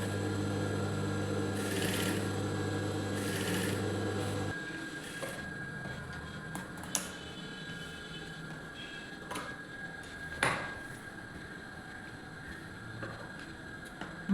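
A sewing machine stitches a blouse lining, its steady motor hum running loud for about four and a half seconds before stopping, leaving faint handling clicks and rustles of fabric.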